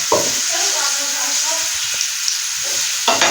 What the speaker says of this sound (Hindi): प्याज हमारा मामूली फ्राई हो चुका है